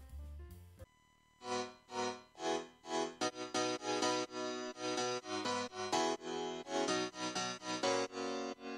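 Two layered pianos in FL Studio, treated with Soundgoodizer, EQ and sidechain pumping, play rhythmic stabbed chords that swell and duck in a steady pulse, clear and alone after a short intro hit.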